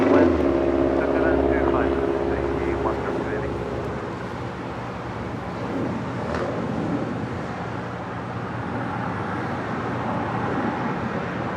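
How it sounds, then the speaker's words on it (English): A Flair Airlines Boeing 737 MAX 8 lands on runway 24R at Los Angeles International Airport, its broad jet roar filling the background at moderate distance while someone talks over it throughout. "Flair Airlines, flight 1888 on the 737 MAX 8, landing on the north side on 24 rights"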